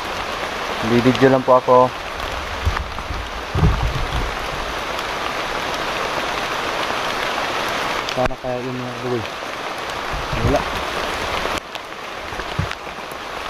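Rain falls steadily outdoors as a constant hiss with a soft patter, continuing for the whole stretch while people talk quietly over it.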